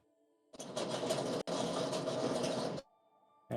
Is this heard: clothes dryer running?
yes